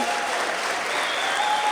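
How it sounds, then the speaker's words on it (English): A dense, loud burst of applause fills the room for Dr. Theodore Lacey at a school historic marker unveiling, steady clapping from a sizeable audience without a break. "a huge round of applause and recognition for Dr. Theodore Lacey"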